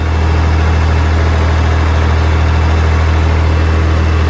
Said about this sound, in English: Beautiful day for a ride in the tractor.